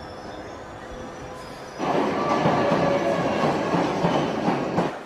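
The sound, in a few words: London Underground Olympia train at Earl's Court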